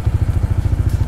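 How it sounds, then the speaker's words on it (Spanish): A motorcycle engine runs right after being started, a close, loud low rhythmic thumping pulse that stays steady and alone. "lo que voy a hacer ahora es encender la motocicleta"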